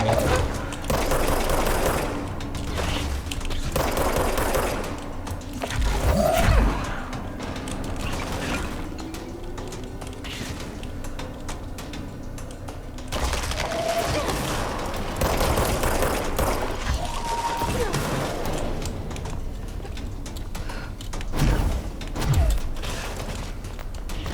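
Gunfire in the video game Control comes as rapid, clattering bursts mixed with mechanical rattles and creaks, loud at the start, middle and end, with quieter stretches between.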